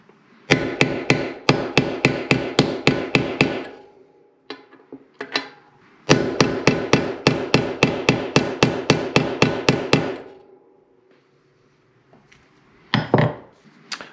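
Rapid, loud metallic hammer blows drive a bearing into a Novatec D712SB hub in two long runs of evenly spaced strikes, then a few scattered taps and a short final burst.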